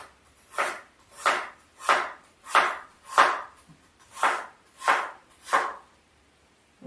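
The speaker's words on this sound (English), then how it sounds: "we've got to slice our apples into thin slices" A knife cuts apples into thin slices on a board, eight steady, evenly spaced strokes, each a crisp close-up chop, followed by a short quiet pause at the end.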